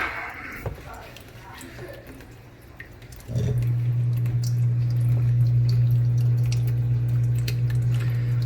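An aquarium water pump switches on partway through, after which a steady, loud low hum with churning, turbulent water continues to the end; before it starts there are faint splashes and quiet handling noises.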